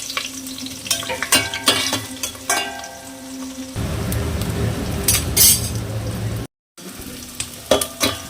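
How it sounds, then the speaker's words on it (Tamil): Chopped onions fry and get stirred in hot oil with ghee while a prawn biryani is being made, giving a loud, steady sizzle under repeated scraping and clinking of a spoon against the pan, with a brief silent gap near the end. "நம்ம வெட்டி வச்சுருந்த வெங்காயத்தை நல்லா பொன்னிறமாக வதக்கி வேண்டியதான்."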